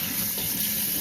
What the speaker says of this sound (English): And then we're just going to take some cold water and rinse it off.